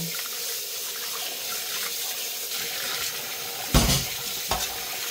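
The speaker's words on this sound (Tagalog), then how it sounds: "hugasan natin yung ating liver. Yan. Lagyan natin sa strainer." Tap water runs into a strainer to rinse pork liver. The continuous splashing stream is close and steady, with a couple of louder gushes as the flow hits the meat.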